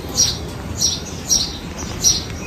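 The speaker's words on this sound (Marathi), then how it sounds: "तर ती त्या घरातली चिमणी आहे. आता मी बसली म्हणून ती ओरडते," A house sparrow indoors gives four short, high chirps at an even pace, each sharp and fairly close, against a quiet, faintly noisy room.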